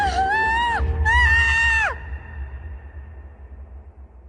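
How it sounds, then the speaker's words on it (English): A woman screams twice in quick succession, loud, high and wailing with a falling end, then the scream cuts off and a low, quiet rumble lingers. "It had been a female screaming, no doubt about that."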